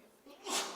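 A single short sneeze-like burst of breath, close and moderately loud, at the end of a brief quiet stretch in a postgame interview after a Sacramento Kings versus Charlotte Hornets game.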